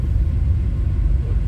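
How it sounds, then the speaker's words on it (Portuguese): A heavy truck loaded with 70 tons rolls past on a pothole-ridden road, a deep, continuous low rumble with no talk. "Caminhão aí vai com 70 toneladas de peso aí, vai."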